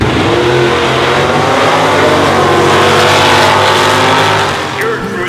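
Classic car and hot rod engines at a car show, loud and continuous, with a steady revving roar that swells and holds before easing off near the end.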